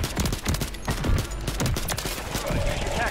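Dense, rapid gunfire crackles in Warzone 3, a busy stream of shots heard alongside game sounds and player voices.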